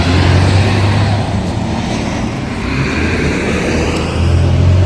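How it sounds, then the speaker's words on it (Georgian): Noisy cars passing on a busy road, a loud, continuous roar of engines and tyres with no pause, slightly swelling at the start and end. "აი ეს ხმაურიანი მანქანები მკლავს"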